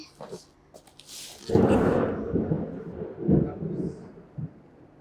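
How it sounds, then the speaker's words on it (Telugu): A deep, rumbling roll of thunder in Hyderabad at the onset of sudden rain swells up and lingers for several seconds, broad and heavy, with faint sounds around it. "విన్నారా, అది థండర్."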